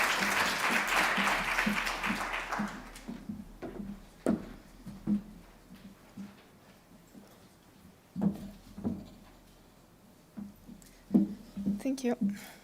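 Warm audience applause at a talk on art and the metaverse greets a speaker, a dense burst of clapping for the first few seconds that fades out, followed by sparse scattered claps and a voice speaking.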